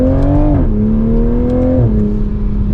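A 2024 Toyota GR Supra 3.0 Premium accelerates hard up a steep hill, its engine note climbing steadily, then dropping sharply at two quick upshifts before rising again, heard loud from inside the car.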